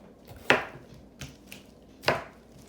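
Knife chopping bell peppers into big chunks on a cutting board: two sharp, loud chops well apart with a fainter tap between, each alone with no talk.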